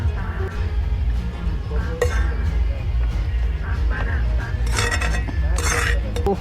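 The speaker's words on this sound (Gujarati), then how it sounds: "અને હવે આપણી મેગી થઈ ગઈ છે તૈયાર. તો હવે આને હું થાળીમાં કાઢી લઉં છું." Maggi noodles scooped from a pan onto a plate while cooking outdoors on the bank of the Machchhu river at Wankaner, with a few bright metallic scrapes and clinks over a steady low outdoor rumble.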